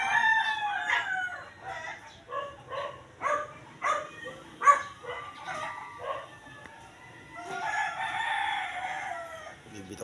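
Roosters crow repeatedly, close by and loud, their calls mixed with clucking chickens and a few dog barks in an outdoor yard; no talking.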